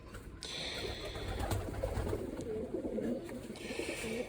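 Pigeon chicks coo softly in a loft while their legs are fitted with rings, a low murmuring coo under faint background noise and occasional higher chirps.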